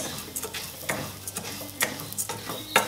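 Metal spoon stirring rice in oil inside a Princess House olla, a series of irregular scraping clinks against the pot, close and fairly loud with no voices.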